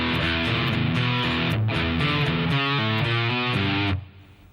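A distorted electric guitar plays a phrase from Velvet Revolver's Sucker Train Blues, a loud, continuous run of shifting notes that ends abruptly near the close, with no talking.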